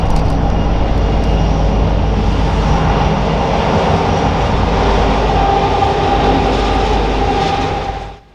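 A loaded BNSF coal train led by two SD-70 Ace locomotives rumbles past at Glendo on the Canyon subdivision, a loud continuous deep diesel roar and rail rumble that fades away at the very end, no voices.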